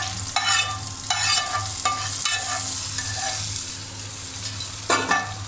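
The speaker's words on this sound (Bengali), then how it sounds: "এভাবে বাগার দিয়ে হালিম রান্না করলে কিন্তু অনেক টেস্ট হয়" Garlic and dried chilli tempering fried in oil and poured into a pot of haleem, giving loud bursts of sizzling and crackling that flare up, settle, then hiss again, with stirring and no talk.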